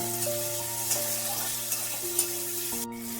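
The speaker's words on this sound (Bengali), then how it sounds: "উচ্ছেটা ভাজা ভাজা হয়ে গেছে একটু" Strips of bitter gourd fry in a pan with a steady, close sizzle and faint stirring, while a steady hum runs underneath throughout.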